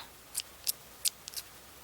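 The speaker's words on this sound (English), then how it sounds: "it's a pair of scissors. You push it out, and it's got the automatic spring in it." Spring-loaded automatic scissors pushed open, a handful of sharp close metallic clicks in a quick uneven series, quiet and alone.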